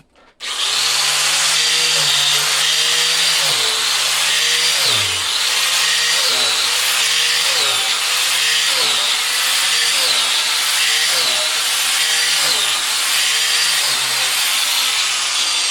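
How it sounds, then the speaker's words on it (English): An angle grinder bores plug holes into a log for mushroom cultivation in an orchard, a loud continuous high-pitched whine and grind with slight pitch dips as the disc bites into the wood, close and steady throughout. "I'm using an angle grinder, which allows us to grind it into the log."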